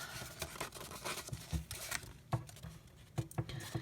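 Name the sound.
gardening scissors cutting paper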